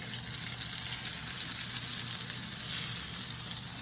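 Chicken saltimbocca topped with prosciutto and sage sizzles steadily in a hot pan, a close, loud, unbroken frying hiss with no talk over it.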